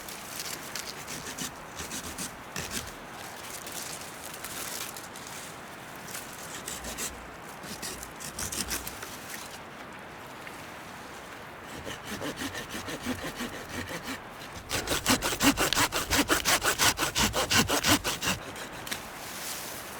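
Hand saw cutting through a small tree in a snowy winter field, a rasping back-and-forth stroke close by that starts slow and uneven, then speeds into a fast, louder rhythmic sawing near the end.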